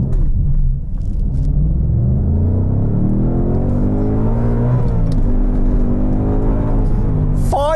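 A 2022 Ford Mustang Mach 1 accelerates hard from a standstill on warm rear tyres: a loud, close engine rumble climbs steadily in pitch as revs rise, with a brief dip around a gear change, and keeps roaring through the end.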